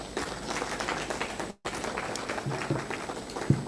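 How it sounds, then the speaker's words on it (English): An audience at a public consultative forum on the medium-term fiscal framework applauds Nigeria's minister Dr. Zainab Ahmed with a steady patter of clapping that breaks off for a moment and then resumes at the same level. "A round of applause for the Honorable Minister, Dr. Mrs. Zainab Ahmed"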